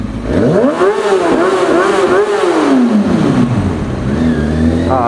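A green motorcycle's exhaust revs up and holds high for a few seconds, pitch rising then sagging, loud and close with some voice over it.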